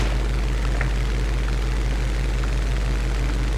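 Propeller fighter planes, a Zero and a MiG-3, drone steadily through a video game air battle, with a dense, continuous engine roar and no talking.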